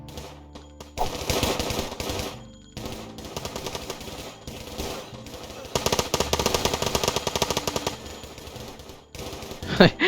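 Rapid bursts of automatic gunfire in the video game Battle Royale Tycoon rattle in long and short strings, with brief pauses between volleys and a few heavier single shots near the end.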